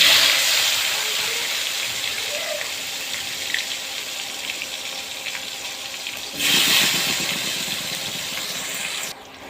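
Radish and potato pieces coated with turmeric and salt sizzle steadily in hot oil in a pan. The sizzle is loud and continuous and swells as the vegetables go in.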